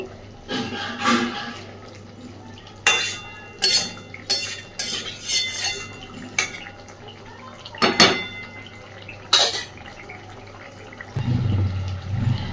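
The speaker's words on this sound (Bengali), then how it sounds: "হালকা হাতে একটু নাড়াচাড়া করে সব কিছুকে মিশিয়ে দেব।" Fish curry in oil gets a gentle stir in a pan: scattered metallic scrapes and clinks of a spoon against the pan, separated by pauses, over a low steady hum, with a soft rumble at the end.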